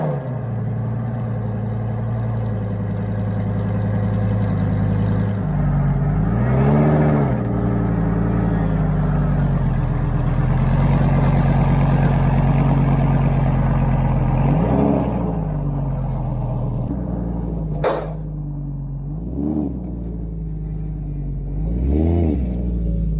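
An expensive car being driven off a trailer, its engine a steady near rumble that swells and revs several times, with sharp bursts of throttle late on and no talk.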